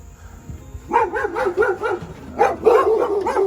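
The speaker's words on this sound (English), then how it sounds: "And there are my dogs." Dogs bark in a quick series of short, close barks after a quiet start, with a few yips mixed in.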